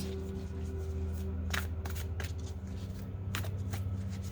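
Chakra Healing Oracle cards being shuffled by hand, soft riffling and a few sharp card slaps over a steady low hum.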